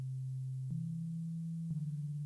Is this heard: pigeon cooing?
no